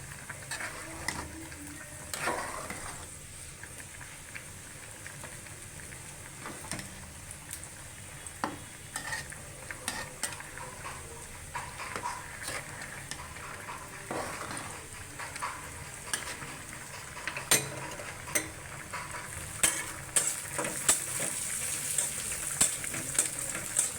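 Jute leaves (pat shak) frying in a pan, giving a continuous close sizzle broken by scattered scrapes and taps of a stirring spoon, steady throughout and slightly louder toward the end.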